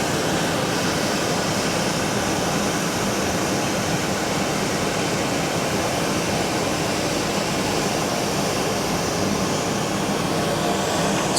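An RSP ESE 6 suction excavator runs at its lowest suction stage while sucking up stones, giving a constant loud, dense roar of rushing air with no break or change through the stretch.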